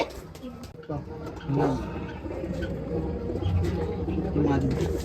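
Soft, low cooing of pigeons repeats in the background while a person talks nearby.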